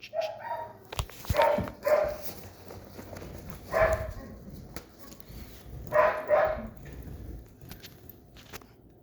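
A dog barks in short, sharp bursts during an outdoor training walk, several separate barks spread out with pauses between them, fairly close, over faint background noise.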